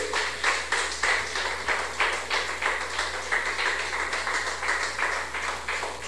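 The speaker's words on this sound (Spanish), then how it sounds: "Denle un aplauso al Rey de la Gloria." A church congregation claps in a steady, rhythmic beat of roughly two claps per second, moderately loud and continuous in a reverberant room.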